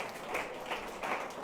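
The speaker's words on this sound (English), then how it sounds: "So big round of applause for sir." An indoor audience at a school event gives a short burst of rhythmic clapping, faint and brief.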